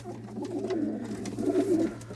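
A caught stray male pigeon, middle-aged and clean-footed, coos in a low, steady murmur that swells and fades across two short phrases, close up and alone over a faint constant hum.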